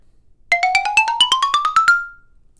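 A keyboard percussion bar struck on the edge of the sharps and flats, a rapid rising run of about twelve bright, ringing metallic notes lasting under two seconds, clear and close with a short ring-out.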